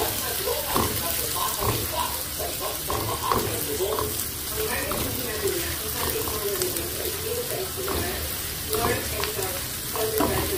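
Garlic, onion and ginger sauté in oil in a pan with a steady sizzle and frequent scraping stirs close by, while a voice speaks faintly at times.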